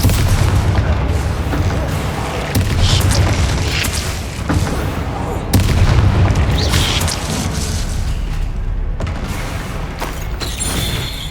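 Bombarda blasting spell in Hogwarts Legacy, a heavy, loud booming explosion with rumbling debris and crackle that fills the whole stretch, surging again midway.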